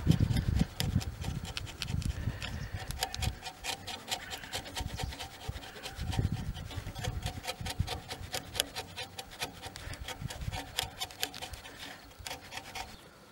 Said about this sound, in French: Et avec le ciseau à bois, on arrive petit à petit à cette étape de finition.